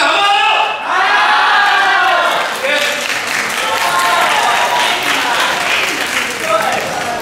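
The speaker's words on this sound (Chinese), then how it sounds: "大家请不要吝啬你们的掌声跟尖叫" A theater audience at a company anniversary stage show claps and screams in a sustained, loud burst of applause and cheering, with shouts rising over the continuous clapping throughout.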